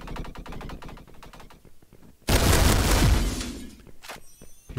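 SAIGA shotgun firing in a video game: a rapid run of sharp shots at first, then a loud booming blast with a long rumbling tail, followed by fainter clicks and clatter.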